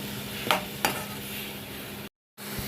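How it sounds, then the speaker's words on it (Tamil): Tomatoes sauté in a pan for mushroom gravy, a close, steady sizzle with two sharp stirring scrapes and a brief dropout near the end. "நல்லா வதக்கி விட்டுருங்க அடுப்பை சிம்மில் வச்சுக்கோங்க இது வந்து நல்லா வதங்கணும் தக்காளி"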